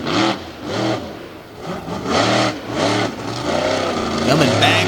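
A racing truck engine at a motorsport event revs hard in repeated surges, each rising in pitch and then dropping, loud and close with no voices over it.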